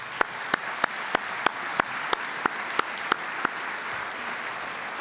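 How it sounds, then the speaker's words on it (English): An audience in a theater applauds a chamber orchestra of fifteen young musicians: a soft, distant bed of many hands clapping, punctuated by a steady series of sharp, louder single claps from someone nearby. "One more applause for them"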